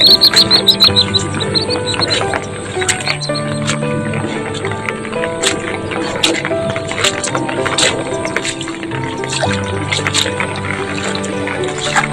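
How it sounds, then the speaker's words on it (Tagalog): Many birds chirp over a flooded rice field, a dense busy chorus of short calls running steadily throughout with no talk. "daming ibon sa ano kung makakita nyo yung ibon na yun oh"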